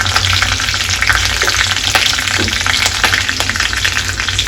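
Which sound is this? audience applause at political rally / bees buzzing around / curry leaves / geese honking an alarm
curry leaves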